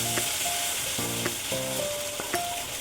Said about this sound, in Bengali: এইভাবে মশলাটা আমি কষে নিব।